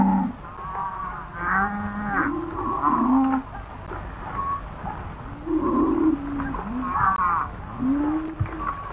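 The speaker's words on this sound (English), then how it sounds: "I will take these cattle to Mexico for you." Cattle bellowing in a 1935 western film, with several drawn-out moos rising and falling over about nine seconds, some overlapping, against a steady outdoor background.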